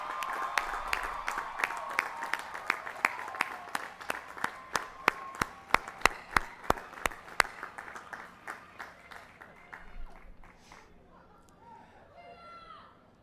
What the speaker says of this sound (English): join me in giving those special people a well-deserved round